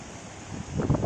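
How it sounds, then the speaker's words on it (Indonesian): Sudden strong gusty wind buffets an outdoor spot, a roaring rumble with heavy microphone buffeting that builds louder toward the end. "Fenomena angin kencang"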